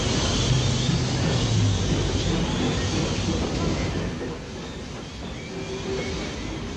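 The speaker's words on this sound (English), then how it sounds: "Swindon-built Ivat Mogul 46507 arrives at Brecon with the 4:05 p.m." Swindon-built Ivatt Mogul steam locomotive 46507 arriving at Brecon station in South Wales with a passenger train, a continuous broad rumble and rolling clatter that slowly eases, heard close with no talk.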